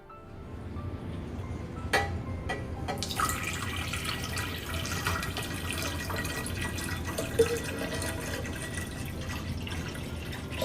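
Water pours into a vintage watering vessel being filled for a hydrangea arrangement, a steady close trickle and splash running throughout with a few faint clinks near the start.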